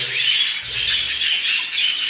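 Society finches chirp and tweet rapidly nearby, a busy chorus of high twittering calls, with faint low background noise.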